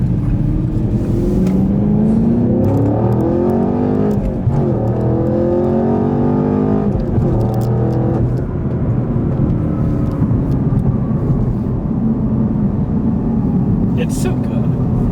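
A car accelerating hard on a test drive, the engine note climbing through the revs in repeated pulls with gear changes, loud and close from inside the cabin.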